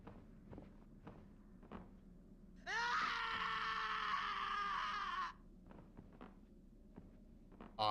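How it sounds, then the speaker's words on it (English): Curtains in Harry Potter and the Order of the Phoenix video game let out a loud, shrill screaming wail that lasts about three seconds, rising sharply above quiet background thuds and footsteps. "Okay, those carpets scream, or curtains scream. That's weird. Screaming curtains."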